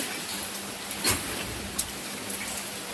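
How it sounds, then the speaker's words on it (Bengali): Heavy rain falling outside, a steady dense hiss throughout with a few sharper drop impacts close by, no voices. "তো বাহিরে যে প্রচন্ড বৃষ্টি"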